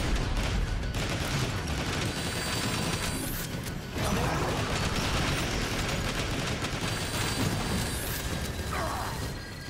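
Gunfire in a fight against a brute in Transformers: War for Cybertron, with dense, continuous bursts of shots, crashes and mechanical clatter, loud and sustained throughout.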